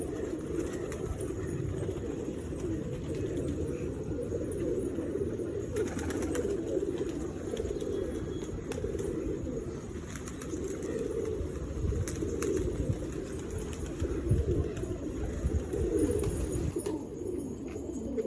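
Flock of old Safdum pigeons, including Tamra Doyaj Safdum birds, cooing in low continuous overlapping murmurs close by, with occasional wing flutters and shuffling throughout.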